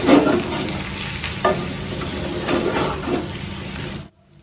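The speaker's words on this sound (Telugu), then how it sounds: "నేను చికెన్ అయితే మీడియం ఫ్లేమ్లో అయితే ఫ్రై చేసుకుంటున్నాను." Chicken pieces fry in a pan over a medium flame, giving a steady close sizzle with stirring scrapes throughout, and the sound cuts off abruptly near the end.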